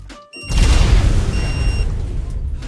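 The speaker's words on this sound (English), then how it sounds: "I always love such big explosions in ARK." A loud, deep boom bursts out and rumbles on, fading slowly over a couple of seconds, with faint electronic tones ringing above it, from an explosion in the video game ARK.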